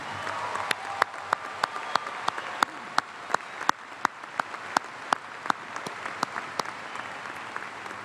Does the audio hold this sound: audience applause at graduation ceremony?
yes